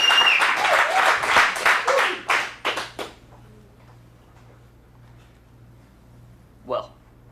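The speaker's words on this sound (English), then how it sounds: "Let's give him a big round of applause" An audience applauds after a monologue at an adult dramatic acting showcase, a burst of clapping for about three seconds that fades out, leaving a quiet room with one brief sound near the end.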